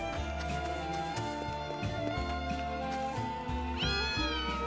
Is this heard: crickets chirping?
no